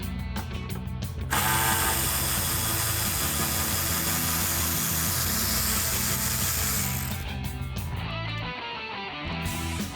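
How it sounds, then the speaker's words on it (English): A 10mm socket on a ratchet backs out two front headlight bolts on a RAM 1500 pickup, giving a loud, continuous mechanical clicking and grinding close by, with a brief pause near the end. "using my 10mm socket and ratchet, I'm going to remove the 2 bolts here on the front of the headlight"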